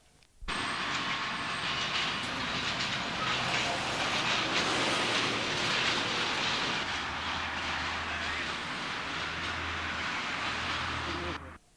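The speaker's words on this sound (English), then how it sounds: "Once again looking over St James Bridge as 67023 passes the church with a rake of ballast hoppers." Class 67 locomotive 67023 hauls a rake of ballast hoppers past a church below a bridge, giving a steady, broad roar and wagon rumble that rises suddenly and holds for several seconds before cutting off.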